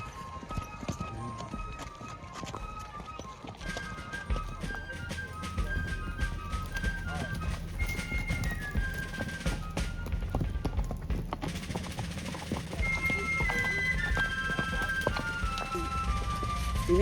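Horses' hooves clip-clop steadily at a Christmas reenactment of Washington's 1776 crossing, a continuous busy clatter of several animals at close to mid distance, with faint background voices and occasional tonal sounds.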